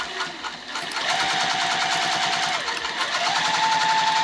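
A sewing machine top stitching a bag at a 3mm stitch length runs as a steady, continuous rapid whir with a fast mechanical stitch rhythm, close and fairly loud, lasting throughout without talk.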